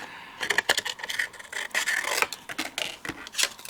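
Scissors snip and rasp through card stock, fussy cutting images for card making in a close series of short, irregular cutting strokes with no talking.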